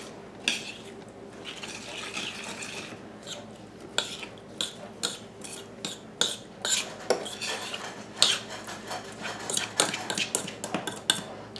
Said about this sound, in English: We're going to stir all this together.